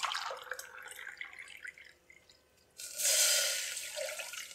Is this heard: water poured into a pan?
yes